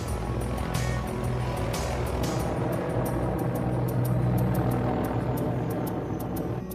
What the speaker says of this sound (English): Helicopters are notoriously noisy